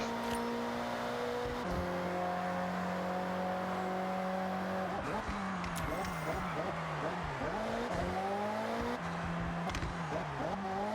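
A Ferrari engine in the racing video game Forza Horizon, revving and shifting through gears with rising and falling pitch, tire squeal and skidding near the end, loud and close under game sounds.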